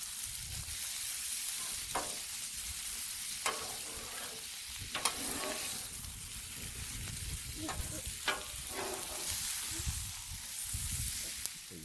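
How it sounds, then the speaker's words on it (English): Cabbage, sausage and bacon sizzle steadily on a Blackstone griddle while a spatula stirs and scrapes, throwing sharp clicks and swishes into the frying hiss every second or two. "Time to stir everything up."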